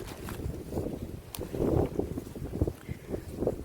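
Steady wind rushes and buffets the microphone, a rough, low roar rising and falling with gusts, close and fairly loud throughout.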